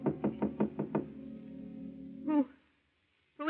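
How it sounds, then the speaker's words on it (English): Half a dozen quick, evenly spaced knocks land on an apartment door, followed after a pause by a brief voice answering from inside. "a knock at Gloria's apartment door"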